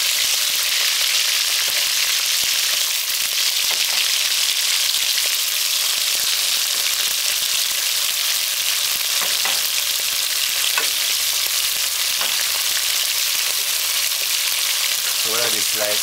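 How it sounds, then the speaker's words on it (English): Sliced cow's liver fries with onion and pepper in a pan, giving a loud, dense, continuous sizzle with a few faint clinks and stirs underneath. "So now we're gonna fry this up for about, just fry it."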